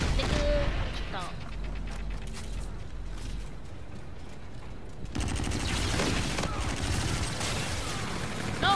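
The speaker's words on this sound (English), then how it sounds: "No, who's shooting me? Who's shooting me?" Video game gunfire crackles in scattered bursts and volleys at moderate volume, mixed with mechanical clicks and the player's voice talking over it.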